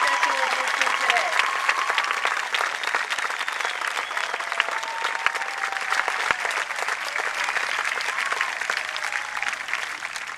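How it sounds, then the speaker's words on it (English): Applause for military training instructors at an Air Force basic training graduation at Lackland AFB, a large crowd clapping loudly and continuously for about ten seconds with faint cheering mixed in. "I'd like to raise a round of applause for the MTIs that took them across that line"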